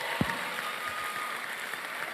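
An audience at a speaking event in Ghana claps in a steady, continuous wash of applause that holds at an even level, with one sharper knock near the start.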